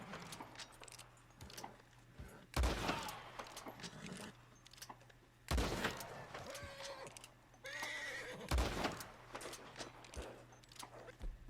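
An Arabian horse in Red Dead Redemption 2 whinnies in several loud bursts spaced a few seconds apart, with hoof clops and jangling tack in between.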